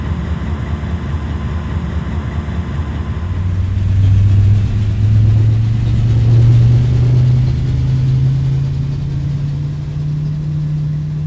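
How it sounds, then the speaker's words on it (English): A fuel truck's engine in the P3D flight simulator with GSX ground services idles steadily and then rises to a louder, sustained drone, close by, with no talking. "Fuel truck is in position."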